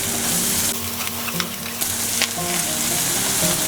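Guntur chilli chicken cooks in a pan with a loud, continuous sizzle. Stirring and scraping clatters break through it. No voices are heard.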